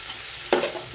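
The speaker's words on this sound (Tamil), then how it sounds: "இந்த ஆயிலே நல்லா வதக்கிறேன்" Mint and coriander leaves sauté in hot oil for chicken biryani, a soft continuous sizzle with a brief stir-and-scrape burst in the middle.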